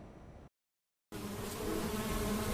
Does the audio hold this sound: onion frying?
no